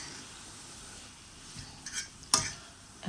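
Noodles stirred and fried in oil in a pan, with a few scattered clinks and scrapes of the utensil and a brief sizzle amid soft kitchen background noise.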